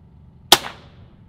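A single sharp shot from an FX Javelin air rifle, a crisp, close crack with a short ringing tail in otherwise quiet surroundings.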